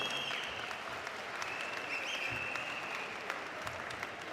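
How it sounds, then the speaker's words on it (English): A fight-night crowd at a combat sports event applauds both fighters, producing a dense, steady wash of clapping that holds evenly for a few seconds, with some distant cheering in the background. "a big round of applause to both fighters for an absolute war"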